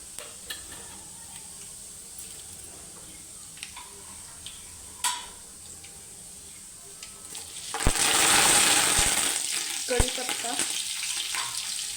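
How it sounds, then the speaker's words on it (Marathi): Mustard seeds and cumin hitting hot oil in a pan, a sudden loud hissing burst of crackle and sizzle after several quiet clicks, staying steady to the end with faint voice nearby. "मी दोन चमचे मोहरी टाकली आहे"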